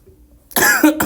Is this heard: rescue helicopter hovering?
no